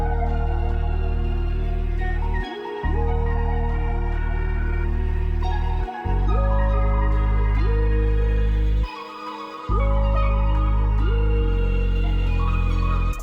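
A dark trap beat built in FL Studio plays loud and steady, with deep booming 808 bass notes that slide in pitch, punchy drums and sparse melodic layers, briefly dropping out twice, with no voices.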